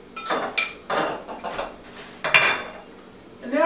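Cream cheese, raspberries and sugar being stirred in a bowl, close clinks and scrapes of a spoon against the dish in uneven bursts, no talk.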